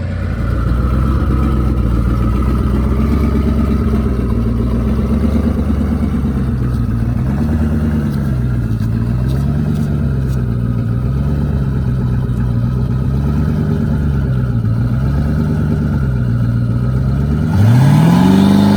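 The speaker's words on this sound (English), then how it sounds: "So I'm going to go get the car ready and make a test hit" A 2011 twin-turbo Coyote race car engine runs loud and close for a long stretch, its deep idle wavering and pulsing in rhythmic swells, then revs up sharply at the end.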